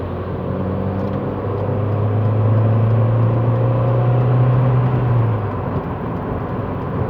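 Steady road rumble and low engine hum from an 18-year-old car cruising on an expressway, with a deeper drone swelling in the middle before easing, no talk heard.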